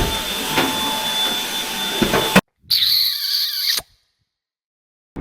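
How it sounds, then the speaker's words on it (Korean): A household vacuum cleaner sucks up spilled coffee grounds in a home kitchen, whining loudly and steadily for a couple of seconds, cutting out, then running again in a shorter high-pitched burst before silence. "여기 청소기 한번 해야겠는데?"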